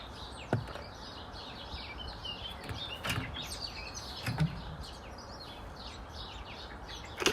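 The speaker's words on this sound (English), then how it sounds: "I can't see a single bird, but I can hear hundreds of them." Many small birds chirping and twittering at once, a busy chorus of quick high calls spread around at moderate distance, with a few louder nearby notes.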